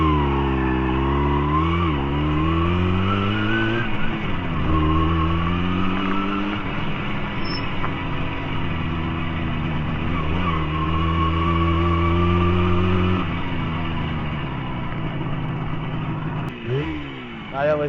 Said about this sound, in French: petit essai moto bécane 125 LT3 après nettoyage et synchronisation des carbus